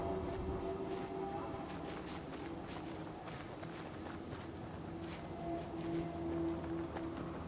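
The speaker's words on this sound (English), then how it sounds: "Oh, it is raining." Rain falls steadily in the video game Fallout 4, a constant soft hiss with light pattering across the whole stretch, mixed with low in-game ambient tones and faint footstep-like thumps.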